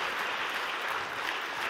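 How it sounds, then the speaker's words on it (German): A church congregation gives a big round of applause, a dense, steady wash of clapping heard throughout, moderately distant and without talk. "Lasst uns Uta nochmal einen großen Applaus geben."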